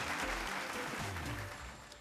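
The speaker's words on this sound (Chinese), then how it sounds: "给我们米露一个最大的掌声加尖叫" Steady, faint applause from an audience at a music creators' showcase event, fading slightly toward the end.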